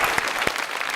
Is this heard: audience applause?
yes